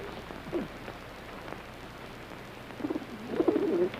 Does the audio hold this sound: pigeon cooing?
yes